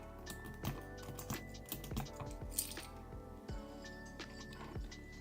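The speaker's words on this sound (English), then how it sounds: "A clacky old keyboard." Clacky old mechanical keyboard keys struck in an irregular run of sharp clicks and clacks, fairly close, with a faint background hum and no one speaking.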